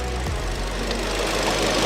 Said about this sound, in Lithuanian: iš karto variklis taip švelniai dirbti pradėjo